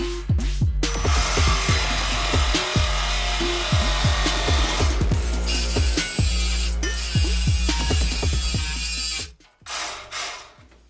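A worn saw blade cuts through metal on a Ford F-150 5.4 header job with steady, loud rasping strokes and sharp transient hits. It runs continuously for about nine seconds, then stops and gives way to a few brief scrapes.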